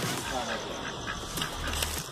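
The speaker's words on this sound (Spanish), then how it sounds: "¿Eres un patito?" A duckling at a park gives a few short, faint peeps and quacks over steady outdoor background noise, with some soft voices nearby.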